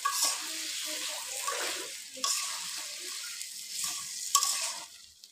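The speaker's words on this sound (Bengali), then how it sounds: "মশলাগুলো তেল ছেড়ে দিয়েছে, এবার সবজিগুলো দিয়ে দেবো। পুঁই শাকগুলো আর আলুগুলো দিয়ে দেবো।" Malabar spinach and potatoes drop into spices frying in oil, setting off a faint, soft sizzle with a few sharper bursts of crackle and stirring scrapes, quiet and close, with no one talking.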